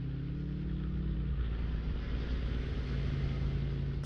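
A Kenworth truck engine in Farming Simulator 19 gives a steady, loud diesel rumble, and its pitch drops as it changes gear partway through.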